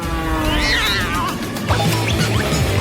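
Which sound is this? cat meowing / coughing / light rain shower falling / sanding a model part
cat meowing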